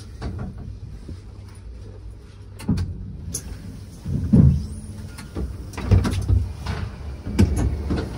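A train door is operated on arrival, giving a few scattered clunks and a sliding rumble over a low background drone, moderately close and without speech.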